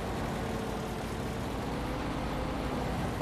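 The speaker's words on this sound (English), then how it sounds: "I do feel like this truck is actually pretty loud." Truck engine in the video game Farming Simulator 19, a low steady drone at modest level that holds unchanged for the few seconds, with no voices over it.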